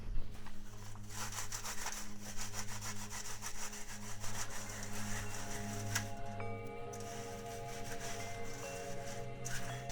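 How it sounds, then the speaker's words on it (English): Sphagnum moss is grated through a coarse soil sieve for a wild-collected Jack pine bonsai, giving a steady, rapid scratchy rasping that continues close and evenly throughout, with a faint background hum. "I will grate some sphagnum"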